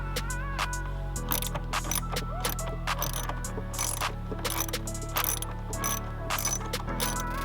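A ratchet with a 10mm socket loosens the battery terminal nut on a 2020 Jeep Grand Cherokee WK2, giving rapid repeated clicking strokes close up, with a steady mechanical hum running underneath.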